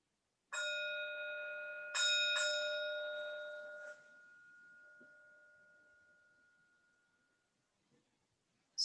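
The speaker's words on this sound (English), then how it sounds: "So the bell ends the practice" A meditation bell is struck three times to close a Buddhist service, each clear, ringing tone overlapping the last before it fades slowly into near silence.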